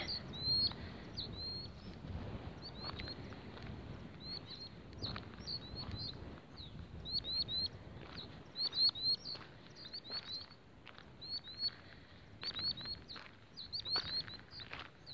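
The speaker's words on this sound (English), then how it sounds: "I'm pretty sure that's a common sandpiper." A pair of common sandpipers call near a reservoir in clusters of thin, high, rapid piping notes that repeat at irregular intervals over a faint rustling background.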